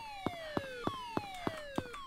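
A police siren in the game Emergency Hamburg wails in repeated falling sweeps. Each sweep is punctuated by a sharp pulse, about three per second, and the siren sounds fairly near and plays alone.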